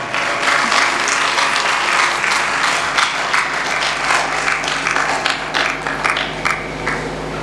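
A congregation claps loudly at a religious sermon, a dense, sustained burst of many hands with irregular sharp peaks running throughout and no talking over it.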